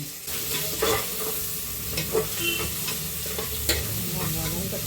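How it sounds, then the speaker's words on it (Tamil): Onions sautéing and being stirred in a pan during home lunch cooking, a steady soft sizzle broken by several sharp scraping clinks of a spoon against the pan. "வெங்காயம் கொஞ்சம் நேரம் வதங்கணும்"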